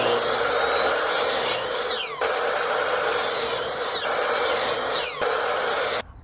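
A hand saw cutting a 45-degree angle through a wood window trim board, a steady rasping scrape in quick repeated strokes, close and alone.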